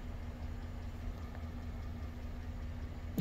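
A 5.3L LS V8 running on diesel fuel in place of its engine oil idles with a steady low rumble and a faint knocking hum, close and constant, with no talk.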